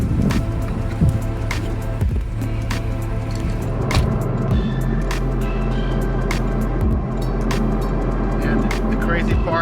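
A Porsche 718 Cayman drives along, its engine a steady low rumble with a shift in pitch midway, while road noise and occasional knocks from the cabin sit under a voice talking.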